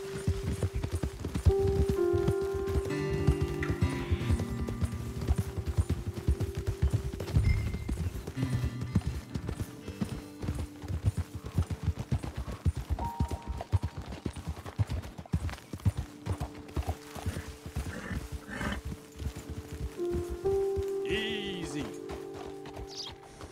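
Horse hooves clip-clopping steadily in a video game, a continuous rhythmic patter of close footfalls over ambient tones and some background voice.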